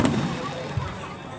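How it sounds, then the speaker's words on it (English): Fireworks burst over a beach show, a sharp crack at the start and a duller thump shortly after, each trailing into a long rumbling wash of crowd and night ambience. "Those are the fireworks."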